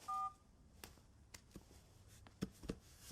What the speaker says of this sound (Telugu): ఆయనకు ఒకసారి కాల్ చేస్తాను